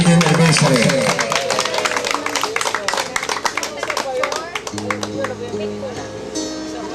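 Family reunion gathering clapping for a 10th anniversary, with a dense run of claps over voices, then talk and a sustained musical tone toward the end.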